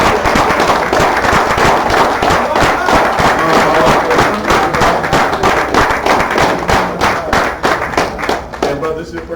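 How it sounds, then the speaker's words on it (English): Loud, dense round of applause from a crowd at a religious gathering, many hands clapping hard in a fast crackling wash that carries on for several seconds before beginning to thin out at the end. "Let's give him another round of applause."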